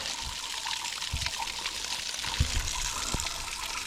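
Water from a hose splashing and trickling through the water jacket of an Oldsmobile Rocket 350 engine block, a steady running wash with a few louder gurgles and knocks.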